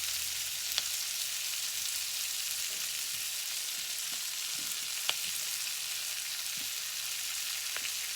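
Onions sautéing in butter in a pot give a steady, even sizzle that runs throughout, with a few faint clicks of stirring and no talking.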